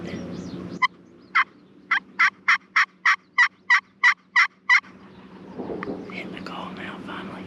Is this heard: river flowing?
no